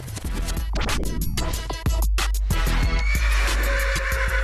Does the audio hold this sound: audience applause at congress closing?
no